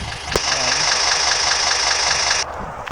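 Idling engine of a vehicle in the GTA San Andreas CCPH x StreetGP modpack, a steady game-engine drone with a click near the start, then the engine cuts off abruptly, leaving quieter background.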